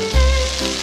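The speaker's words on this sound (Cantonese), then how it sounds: "再炒一炒呢個四季豆" Green beans stir-fried in a hot wok, a sharp loud sizzle bursting up as they hit the oil and then hissing steadily, with a low clatter of stirring.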